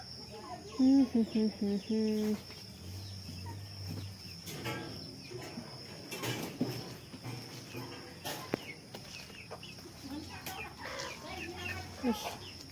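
Chickens cluck and call intermittently amid a noisy yard, with a loud squawking burst early, scattered clucks afterward, and faint insect chirping behind.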